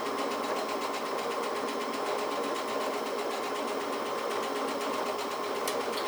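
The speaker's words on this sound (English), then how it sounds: "once it finishes stitching, then you'll trim it" A sewing machine with a circular attachment foot stitches steadily, a fast, even, buzzing mechanical whir that runs loud and unbroken throughout.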